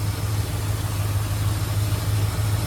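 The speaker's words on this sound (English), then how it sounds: "But it runs good, it sounds good." A 1978 Ford F100 pickup with a new ignition module and radiator idles steadily nearby, a constant loud rumbling drone with no changes in revs.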